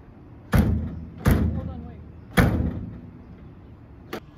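A camper van door is shut several times in a row: three loud, heavy thuds close by, a fourth lighter knock at the end, and a quiet outdoor background between them.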